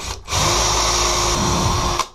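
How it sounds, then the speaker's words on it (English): A power drill whirs steadily for about two seconds, pre-drilling into a wall, starting and stopping abruptly, close and loud with no talking. "We'll pre-drill."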